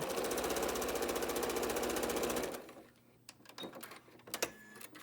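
A sewing machine stitches maple leaf quilt block pieces, a fast even mechanical rattle running steadily for about two and a half seconds, then stopping, followed by faint handling clicks and rustles nearby.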